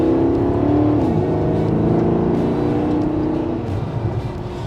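A Maserati GranTurismo Sport's 4.7 V8 engine runs at a steady, deep, loud rumble that dips in pitch as the revs fall, then settles into a lower idle toward the end.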